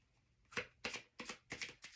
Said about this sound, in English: I feel like that needs another good shuffle.